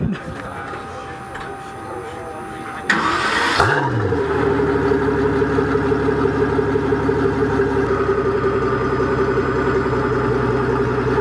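A Ferrari engine cranks and starts with a sharp rising burst, then settles into a loud, steady rumbling idle; voices are faintly heard beforehand.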